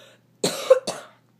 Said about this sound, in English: the cough is being really intense